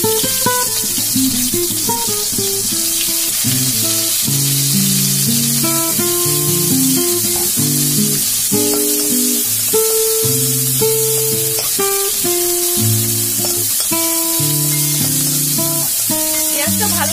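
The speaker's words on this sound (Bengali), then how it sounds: "এতে সর্ষের তেল দিয়ে দিয়েছি। এবার আমি পেঁয়াজটা দিয়ে দেবো।" Onion frying in mustard oil, a loud hissing sizzle that runs beneath background music throughout.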